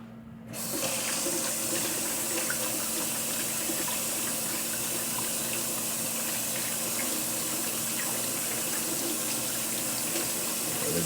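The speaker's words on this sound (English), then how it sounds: "let me do it again for the camera. Wash my hands." Tap water runs steadily into a sink while hands are washed before handling fish for steaming, a continuous close splashing hiss that starts abruptly after a brief silence and holds level throughout.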